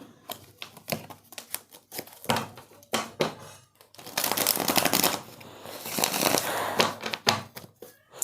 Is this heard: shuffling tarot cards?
yes